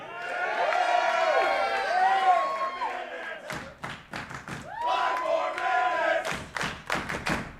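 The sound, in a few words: wrestling crowd chanting and cheering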